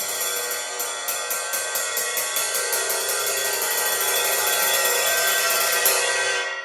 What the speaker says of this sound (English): Over here, the 20-inch A8X stage ride.